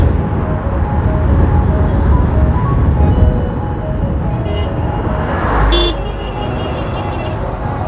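Dense road traffic jam near Belur, a steady broad roar of engines close by with occasional horn toots cutting through, and a voice speaking over the din.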